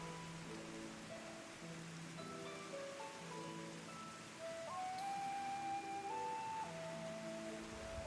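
Rain falls in Final Fantasy XIV Endwalker as a steady, soft wash of noise beneath a gentle melodic game soundtrack. No one speaks.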